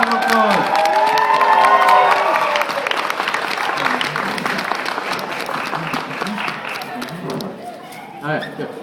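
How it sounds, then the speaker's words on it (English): Applause and cheering rise from an audience at a mission gathering, loud at first and gradually thinning out, with whoops and a few voices mixed in. "round of applause"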